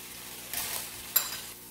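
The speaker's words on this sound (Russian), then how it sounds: "В сковородку еще растительное масло. И обжарим лук до мягкости." Onions sizzling in vegetable oil in a hot pan, two quick bursts of frying hiss as pieces are stirred, close and moderately loud.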